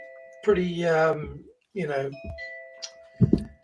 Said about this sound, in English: it's my doorbell